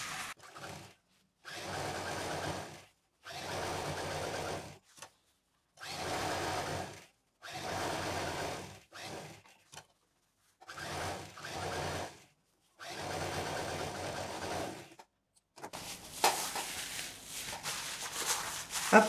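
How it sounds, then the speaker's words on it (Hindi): An electric sewing machine stitches three sides of a fabric bag made from leftover cloth, running in repeated bursts of steady whirring separated by brief pauses, close and fairly quiet, with fabric handling toward the end. "तो एक सिलाई इसलिए की है कि मजबूत हो जाए, सारी सेटिंग हो जाए"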